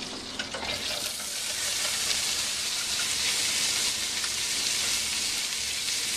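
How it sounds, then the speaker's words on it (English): Onion, celery, jalapeños and serranos sautéing in half a stick of hot butter over medium-high heat, giving a steady, fairly quiet hiss and sizzle with no talk over it. "So I want to saute them now."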